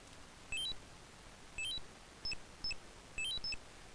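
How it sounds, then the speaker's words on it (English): Atari 2600 video game beeping: short rising electronic chirp sequences repeating in quick clusters, bright and clean over a faint background hiss. "Beep beep."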